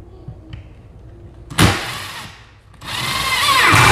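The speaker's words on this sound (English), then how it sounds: "I know we have a stud here, and I'm just gonna put the screw." A power drill drives a screw into a wall stud while a wooden shelf and rod are mounted, giving a short loud whir, a pause, then a longer rising run of the motor close by.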